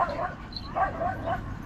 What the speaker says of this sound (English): It's the dog park, Gus.